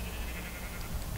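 A sheep bleats once in a brief, steady call against a constant background hum, heard alone without talk.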